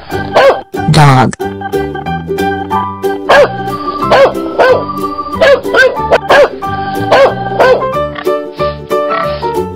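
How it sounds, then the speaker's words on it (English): A dog barks repeatedly in short, loud bursts over playful background music. "Dog."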